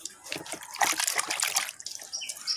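Freshly picked lemon leaves are rinsed by hand, with close splashing and trickling water in uneven bursts, loudest midway, in an outdoor home setting.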